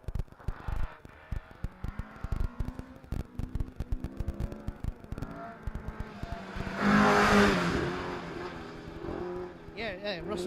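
Mark II rally car on a gravel rally stage, its engine revving and rising then falling as it passes, with a commentator talking over it and crowd noise in the background.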